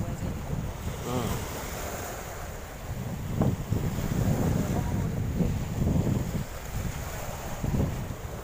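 Strong wind sweeps across a sea shore at Atimonan, Quezon, on a fishing outing by boat, a steady broadband roar with gusty swells and surf-like rushing filling the whole stretch, with no clear talk.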